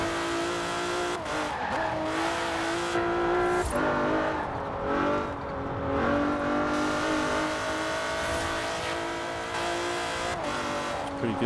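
A car engine revs in the racing video game Forza Horizon 4, a loud, continuous roar that rises and falls with acceleration, with hints of tyre squeal throughout.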